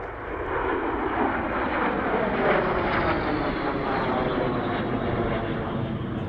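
Aircraft engines at an airshow roar continuously during an aerobatic bomb-burst manoeuvre, a loud, broad droning rush that swells and shifts in pitch as the planes pass overhead.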